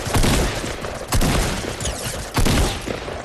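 Gunfire in the video game Fortnite: three loud, sharp shots spaced roughly a second apart, each with a short ringing tail, heard alone without talk.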